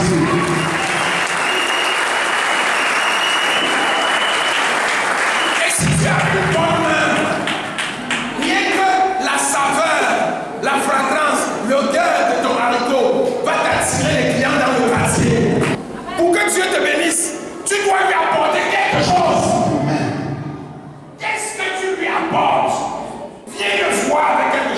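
A church congregation breaks into loud, sustained applause for Jesus, dense clapping from a large crowd with scattered cheers and voices rising and falling throughout.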